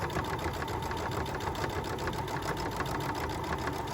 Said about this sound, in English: And I'm sewing with a thicker fabric.